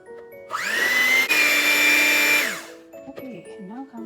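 An electric mixer whirs loudly and up close for about two seconds as cream is beaten into cake batter for a plain loaf cake, then cuts off, leaving faint clinks and a brief voice.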